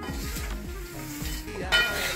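Crisp poha chivda tossed continuously in a hot pan, a dry rustling scrape with soft crackle, steady and close, with a few sharper clinks near the end.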